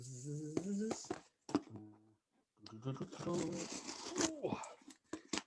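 Someone cuts into a well-packed box with scissors, producing bursts of crinkling, tearing and rustling packaging close by, with talking between the bursts.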